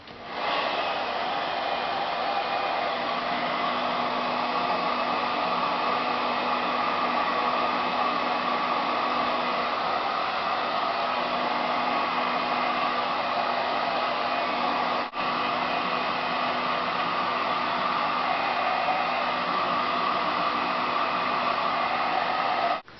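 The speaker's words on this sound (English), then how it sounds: "I'm just going to demonstrate styling with a round brush and a blow dryer." A blow dryer roars steadily and loudly up close as bangs are styled with a round brush, with one brief dip partway through and no talking.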